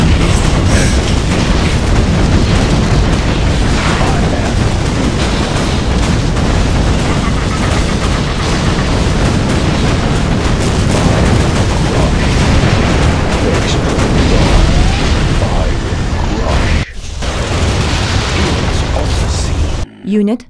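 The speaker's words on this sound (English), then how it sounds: "Heavy machine coil gun ready to do some business." A heavy machine coil gun firing in a strategy video game amid continuous loud booms and explosions, with game voice lines spoken over the dense battle noise.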